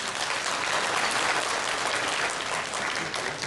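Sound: applause welcoming the new young hosts

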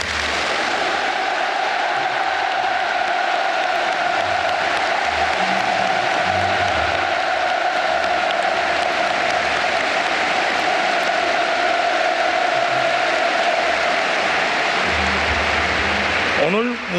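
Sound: large crowd applauding

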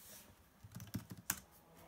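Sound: typing a command on a laptop keyboard in terminal

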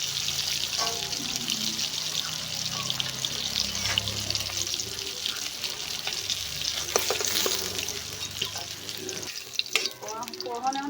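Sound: catfish frying in oil

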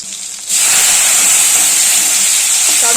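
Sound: green chillies and bay leaves sizzling in hot oil

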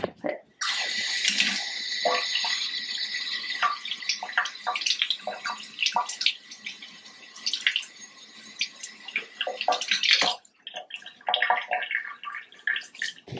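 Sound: sponge scrubbing a bathtub with Comet bleach cleaning powder

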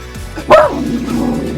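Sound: puppy barking in the video game La Tale

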